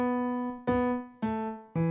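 Low piano left-hand bass lick for a jazz tune intro, starting on the ninth: three or four firmly struck notes, each ringing and decaying before the next, played alone.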